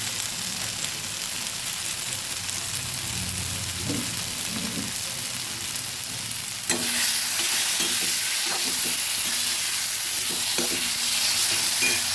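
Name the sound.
stirring curry with fried potatoes in a pan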